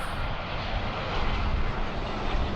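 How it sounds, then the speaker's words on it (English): An Airbus A320 airliner passes on a low approach with a loud, steady, broadband roar of engine and rushing air that holds at a constant level throughout and carries no speech. "we have an Airbus A320 by Easy."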